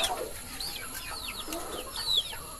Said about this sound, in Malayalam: ഇതൊക്കെയാണ് കോഴികൾ